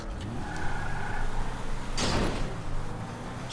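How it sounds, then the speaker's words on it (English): A car door is smashed off in GTA 5 Online, heard as one sharp crunching impact midway through, over a steady idling engine and background hum. "Now, smash the door off, don't forget that."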